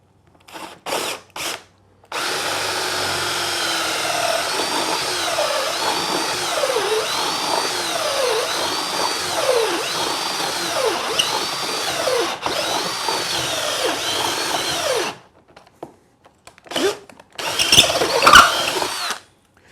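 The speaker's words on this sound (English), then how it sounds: "I think I need to use the bigger drill." Power drill boring holes in wood while building a treadle tape loom: short test bursts, then a long loud whirring run with rising and falling pitch as the bit bites, and a few more short bursts at the end.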